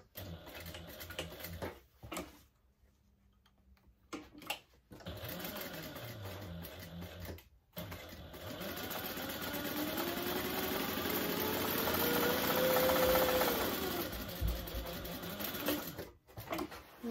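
A sewing machine runs a second line of stitching along the base of a fabric bag, several short starts followed by a long steady whir, close up with no talking.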